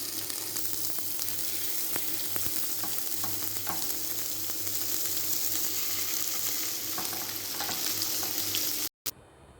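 Chicken pencil kebabs fry in hot oil with a steady, close sizzle and crackle throughout, a few sharper pops breaking through, before the sound cuts off abruptly near the end.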